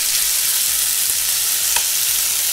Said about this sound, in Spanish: Tenemos ya nuestra sartén suficientemente caliente con un chorrito de aceite vegetal. Vamos a pasar a sellar nuestra pechuga de pollo.